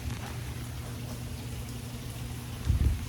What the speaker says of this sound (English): But it started raining on me.